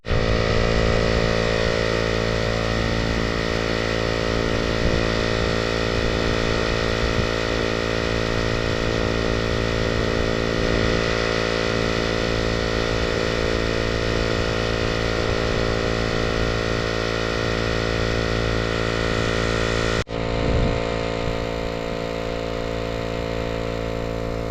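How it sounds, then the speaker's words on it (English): A steady electric tire pump or compressor drones continuously at close range while inflating a van's slightly low tires at a campsite, holding an even tone before a brief drop near the end. "I've got to pump the tires up now"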